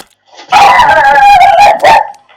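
A dog close by lets out a loud, drawn-out run of yelping, whining barks lasting about two seconds, with silence before and after.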